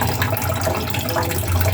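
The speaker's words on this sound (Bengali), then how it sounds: "কেবল পানি আসতে শুরু করেছে।" Water from a tap runs steadily after the supply comes back, a continuous close splashing gush with a low rumble beneath, heard alone without talk.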